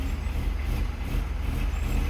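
Trucks and other vehicles passing on a bypass road near Thoppur, Dharmapuri, a steady loud low engine rumble of continuous traffic with a faint hiss of air brakes now and then, no voices.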